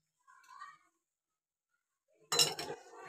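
A spoon stirs cardamom into thick coconut sugar syrup in a pan for fresh coconut vadi. After a quiet stretch, a brief burst of scraping and clinking comes up close.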